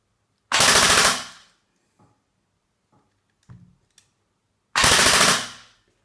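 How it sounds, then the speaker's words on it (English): Two loud, close bursts of full-auto fire from an ASG Scorpion EVO 3 A1 airsoft gun fitted with an M90 spring, each lasting about a second, with faint mechanical clicks and handling noises in the quiet gap between them. "now I've quickly changed to the M90 spring. Let's see how many rounds per second do we get out of this"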